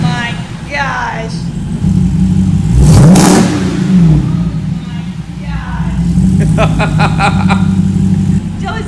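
A 6.4-litre SRT HEMI V8 swapped into a Jeep Wrangler JLU Rubicon fires up and revs hard, a loud rising roar peaking midway then settling into a rumbling idle, with people talking over it.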